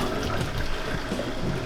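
Water from boiled potato wedges being drained off, giving a continuous rushing, splashing pour that is fairly loud and steady throughout.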